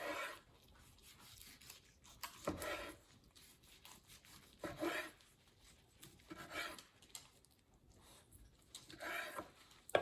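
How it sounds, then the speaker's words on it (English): Cooked chicken breast meat sliced off the bone with a knife, heard as repeated soft rubbing, rasping strokes in bursts of a second or so, close and fairly quiet, with no talking. "once you got it off of the bone, then you could just slice it up"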